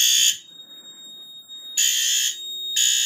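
Loud electronic alarm tone blaring in three bursts with gaps between, a high piercing beep from a fire alarm panel set off by a smoke detector during a system test.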